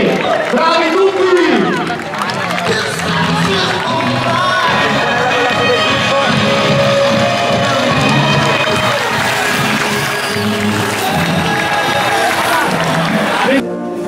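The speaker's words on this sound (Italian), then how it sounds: "qua c'è qualcuno che si applaude" Crowd of spectators clapping and cheering at the finish of an Italian youth championship cycling race in Comano Terme. The noise is loud and continuous and close by, and a commentator talks over it throughout.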